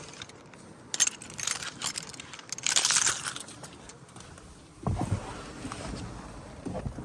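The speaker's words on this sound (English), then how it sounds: "Trying to find the right key." A bunch of car keys jangling close by while the right key is sought for a Mercedes A-Class A45 AMG lookalike, two bright rattling bursts and then a duller clunk, with no talk.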